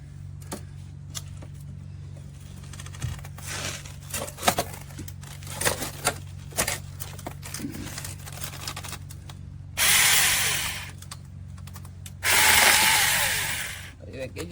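A Seesii cordless handheld mini chainsaw with a 6-inch bar cuts into wood in two loud, sustained bursts near the end, following a stretch of quieter rattling and handling noise.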